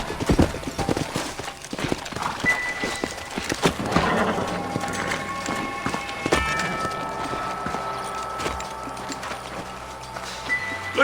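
Horses clip-clop and gallop on a trail in Red Dead Redemption, with hoofbeats steady throughout and occasional whinnies under game music and ambient effects.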